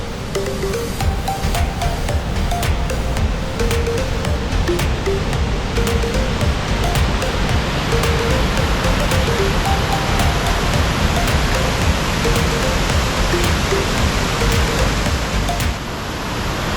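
Henrhyd Falls, a waterfall in the Brecon Beacons, Wales, in heavy flow: a loud, steady roar of rushing, crashing water that fills the whole stretch, with no talk.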